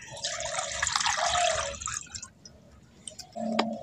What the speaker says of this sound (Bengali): ওই কড়ার মধ্যে 500 গ্রাম দুধ দিয়ে দিচ্ছি